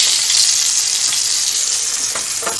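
Bonito fish fillets frying in oil in a pan give a loud, steady sizzle with crackling throughout.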